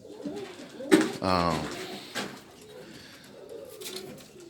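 Soft Birmingham Roller pigeon cooing close by in a breeding box, a low throaty burst near the start followed by quieter murmuring and faint rustling in the enclosed space.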